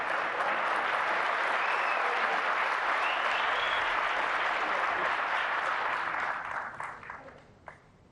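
A snooker crowd at the 2024 Saudi Arabia Snooker Masters final applauds a shot by Mark Williams, with sustained, dense clapping that holds steady before thinning out and fading near the end.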